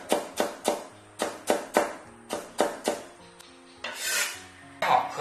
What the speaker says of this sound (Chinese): 先给它切薄片， 再给它切细丝，最后给它切成姜末